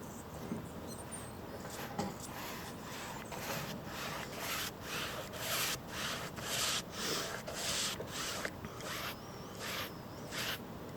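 High gloss varnish brushed over an oil painting, with a steady close brushing and rubbing texture in repeated soft strokes, continuous and quiet for about eleven seconds, without speech.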